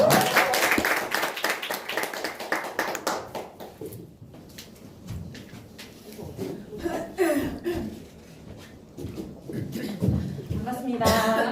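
Clapping welcoming a teacher presenter at a Korean teachers' gathering, a burst of applause at the start fading out, then scattered claps, chuckles and laughter from a small audience with talk mixed in.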